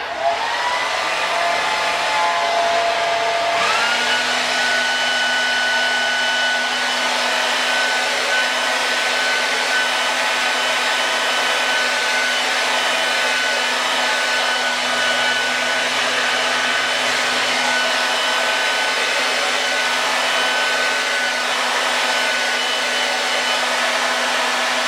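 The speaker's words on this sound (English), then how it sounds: "you're just going to blow dry all of this up in here" A hair dryer blow-drying stretched curly hair runs loud and steady for the whole stretch, a constant close whir whose pitch shifts slightly after the first few seconds.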